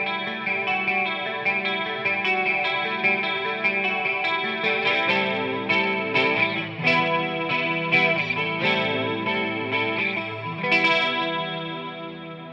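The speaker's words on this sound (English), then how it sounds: "you could definitely hear the chorus really affecting the tone of the reverb" Electric guitar run through a chorus pedal placed after the reverb, sustained chords and picked notes shimmering with a wavering, swirling modulation and a lush wash of reverb, steady and moderately loud throughout.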